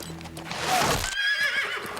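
Horses whinny loudly in a battle scene from a historical war film set among hills, with clip-clop hooves and commotion continuing throughout.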